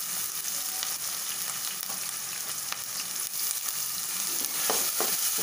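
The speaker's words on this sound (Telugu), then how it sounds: "ఆయిల్ బాగా కాగినది పచ్చిమిరపకాయ ఉల్లిపాయ పేస్ట్ చేస్తున్నాను" Green chili, onion and ginger-garlic paste frying in hot oil for chicken fry, a steady dense sizzle with occasional stirring scrapes and a couple of brief louder pops near the end, no talking.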